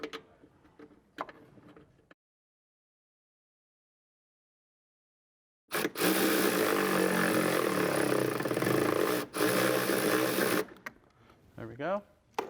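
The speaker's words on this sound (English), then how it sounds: "Now we're going to reinstall our 13mm bolt that holds the box into place." A ratchet turns a 13mm bolt holding the intake box of a Porsche 996 in a long, rapid, dense clicking run, close and loud, bracketed by brief talk and a gap of silence.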